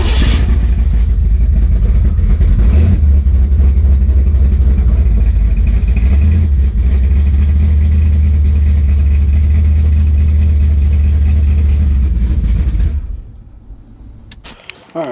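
A Chevrolet S10 truck engine with MSD ignition runs at a steady, loud idle with a deep low rumble, a couple of brief revs near the start, then cuts off abruptly near the end, leaving near quiet.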